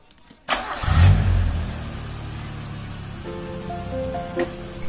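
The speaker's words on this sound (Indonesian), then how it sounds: "langkah selanjutnya kita coba hidupkan mobil" A 2001 Suzuki Baleno 1.5 sedan cranks briefly and fires up with a loud burst, then settles into a steady idle with a faint whine and a small blip near the end, close and without talk.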